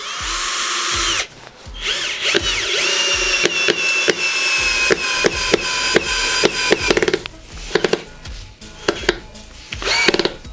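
A Procraft PA212 cordless screwdriver drives a screw into thick wood, whirring steadily under load with sharp clicks and ratcheting bursts as the bit slips, loud and close, with no talking.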